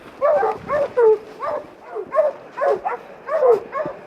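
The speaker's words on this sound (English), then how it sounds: "They're barking treed" Hounds bark treed in a steady repeated rhythm, about a dozen bawling barks, at moderate distance in an otherwise quiet outdoor setting.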